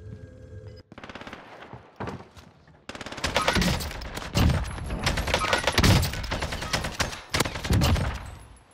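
AK47 bursts in a video game on Rebirth Island, rapid automatic fire in short volleys that swell into dense, sustained shooting with scattered distant shots layered underneath.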